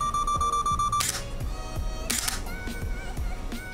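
A camera shutter fires repeatedly in a quiet shutter-speed demonstration, a rhythmic series of crisp mechanical clicks with two brighter louder releases, set against a steady background tone that cuts out after the first second.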